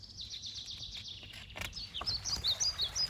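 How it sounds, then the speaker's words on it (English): Birds chirp and tweet in trees as a sound effect for a children's read-aloud story, a run of quick high chirps that grow louder and busier toward the end, heard alone with no talking. "You're tweeting too loud"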